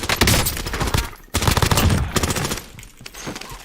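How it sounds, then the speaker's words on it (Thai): Rapid bursts of automatic gunfire crackle loudly and continuously in Call of Duty: Warzone, with a brief pause before another heavy volley. "มีเสียงช็อตกันแบบเวอร์เลยเมื่อกี้"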